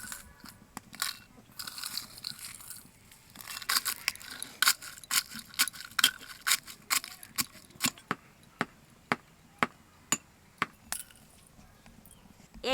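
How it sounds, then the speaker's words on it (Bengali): Fried chili is crushed for an egg paratha filling, a run of sharp, evenly spaced knocks that starts irregular and settles into a steady pounding rhythm, close by with no talking. "ভাজা লঙ্কাটা একটু কুটিয়ে নেব।"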